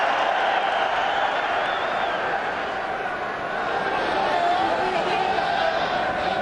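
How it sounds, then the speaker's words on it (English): A rugby stadium crowd roars at the kickoff of the France vs Argentina Rugby World Cup quarter-final, a loud sustained wash of cheering and applause that holds steady throughout. "Huge cheer."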